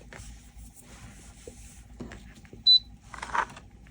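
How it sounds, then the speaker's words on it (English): A heat press used for iron-on work on a tote bag gives one short, sharp beep amid quiet rustling and handling noises. "that beep tells us that it's ready."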